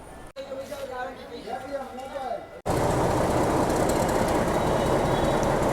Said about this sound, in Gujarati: ચાલો મીટર ગેજનું ડીઝલ લોકોમોટિવનો તમને અવાજ સંભળાવી દઉં